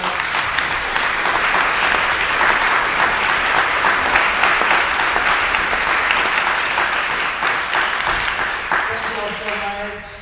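Concert audience applauding together for several seconds at an April 2024 event: dense, steady clapping that stays loud before thinning near the end as a tonal sound enters.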